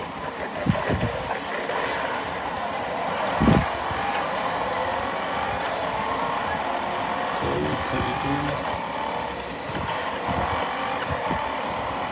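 Race car engine in Need For Speed Heat, a steady loud drone with rising revs, a few thumps and clunks over the continuous roar.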